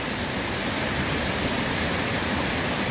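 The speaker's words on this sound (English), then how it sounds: "including right in the side of this waterfall here" A waterfall beside a red maple growing on a rocky streamside roars close by, a dense, unbroken rush of falling water with no talking.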